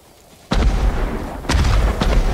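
Fireworks going off in Ghost of Tsushima's Iki Island expansion: three heavy, booming blasts roughly a second apart, each a deep thump with a rumbling tail, loud and close with no talk.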